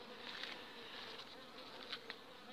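Close, continuous buzzing of many honeybees at an apiary hive in autumn, a quiet steady drone with occasional louder passes as individual insects fly near.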